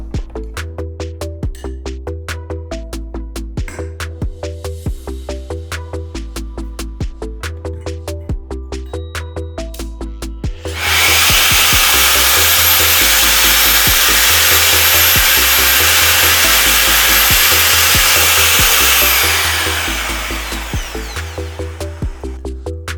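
A power drill whirs loudly and steadily for several seconds while boring holes for cam-lock fittings in a wooden board, then winds down, with repetitive rhythmic music playing before and after.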